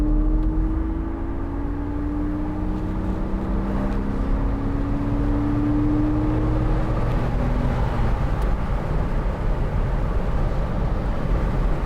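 The 2.7 engine of a 2002 Porsche Boxster 986 roadster gives a steady, rising drone as it accelerates under load, heard close and continuous with wind and road noise mixed in, and no speech.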